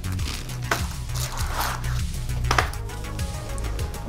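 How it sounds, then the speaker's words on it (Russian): Guava shisha tobacco packed into a hookah bowl, giving soft close scraping and light tapping with a few sharper clicks over a dull low rumble. "Делаем стандартную забивку."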